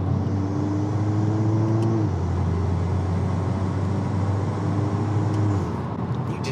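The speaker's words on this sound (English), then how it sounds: "Hear the turbo, it's just sucking air non-stop." A VW MK8 Golf R with an open air intake pulls under load, its engine drone holding steady and then dropping as the turbo whooshes continuously, heard loud from inside the car.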